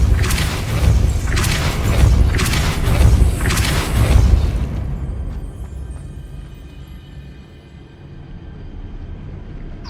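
A Depulso spell is cast in Hogwarts Legacy as a series of deep, booming blasts. Four whooshing thumps come at about one-second intervals, then fade into a quiet, low rumble.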